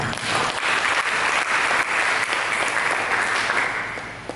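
Church congregation applauding during a sermon, a thick, continuous roar of many hands clapping at steady loudness, easing slightly toward the end.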